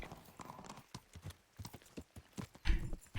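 A horse's hooves clip-clop in the Kingdom Come: Deliverance game, a quick, uneven run of close hoofbeats with a brief snort or whinny near the end.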